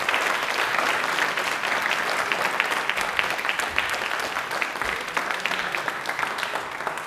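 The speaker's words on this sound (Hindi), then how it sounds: "एक बार जोरदार तालियां हो जाए मीना मैम के लिए" Loud, continuous applause rises from a DD Rajasthan programme audience for Meena Rani, an assistant professor of public administration, with crowded clapping sustained throughout and tapering slightly at the close.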